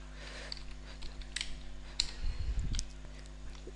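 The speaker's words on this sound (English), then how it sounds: "Here I am typing Squirrel mail" Faint, sparse keystrokes on a computer keyboard, a few scattered clicks over a quiet room hum with no talking.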